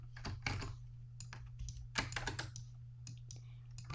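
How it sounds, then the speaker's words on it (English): Rapid, clicky keystrokes clatter in irregular bursts, close and crisp, over a low steady hum. "Sorry if you hear my loud keyboard. I have a really loud keyboard."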